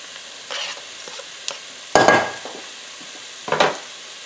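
Garlic and collard greens cooking in a pot, with soft sizzling under several sharp stirring scrapes and clanks of a utensil against the pot.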